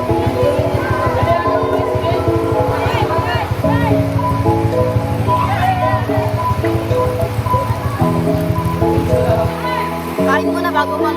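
Rain pours steadily and noisily in the background while children shout and talk over it throughout.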